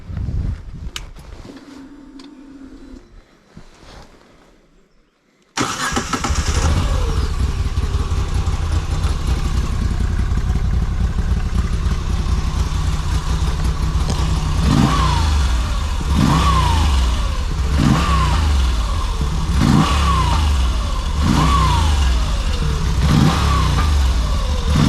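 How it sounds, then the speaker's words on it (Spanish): A Moto Guzzi V85TT motorcycle engine starts after a few seconds of quiet handling noise, then idles close by with a steady throb and is revved several times in quick rising blips. "Y vamos a escuchar el ruido del motor."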